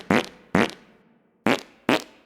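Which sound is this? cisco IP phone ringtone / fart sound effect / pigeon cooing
fart sound effect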